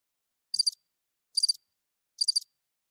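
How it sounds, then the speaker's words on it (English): Crickets chirp in three short, evenly spaced bursts against dead silence, each a bright trill lasting about a quarter second. "When it comes to money, crickets."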